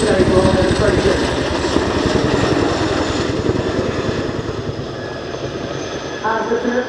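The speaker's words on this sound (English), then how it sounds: "As the Chinook begins its second pass of the runway" A Boeing Chinook HC.6 twin-rotor helicopter of the Royal Air Force passes over the runway at the RIAT 2024 airshow, its loud, rhythmic rotor thudding and turbine roar steady and close, with an announcer talking over it.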